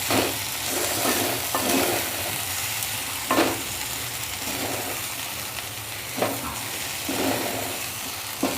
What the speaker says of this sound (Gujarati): હવે આ બધું આપણે મિક્સ કરી લઈશું